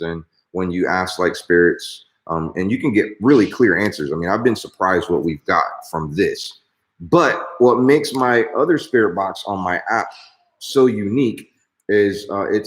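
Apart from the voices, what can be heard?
No everyday noise stands out behind the speech.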